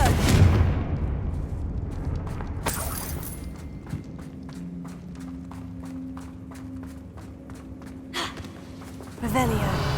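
Confringo blasting spell cast in Hogwarts Legacy: a loud burst of impact and debris noise at the start, followed by a run of rapid rhythmic footsteps and game ambience, with further sharp hits and a closing crash.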